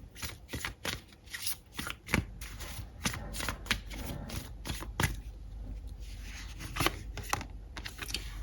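Tarot cards being shuffled by hand in quick, crisp riffling bursts, close and fairly soft, with brief pauses between rounds and no talking.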